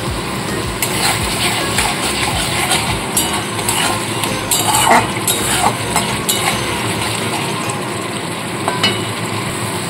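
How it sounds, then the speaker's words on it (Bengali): A spatula stirring and sautéing spice masala in a pan for a vegetarian stuffed papad recipe. The sound is a steady close sizzle with soft scraping and occasional light clinks, and no talk. "মশলাটা খুব ভালো মতো কষিয়ে নিতে হবে।"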